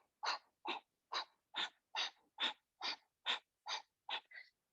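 Eleven rhythmic breaths, evenly spaced and fairly close, airy and hissing like forceful exhalations during a seated yoga twist in a vinyasa flow, each puff short and strong, with no talk.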